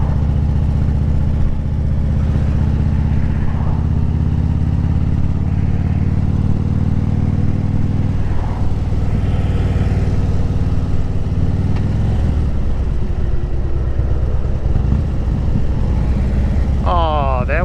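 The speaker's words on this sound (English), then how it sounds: "That was a nice downshift." A 2010 Harley-Davidson Street Glide Ultra V-twin rumbling steadily at speed in third gear, with wind noise and a shift in engine note partway through. Someone speaks briefly over it.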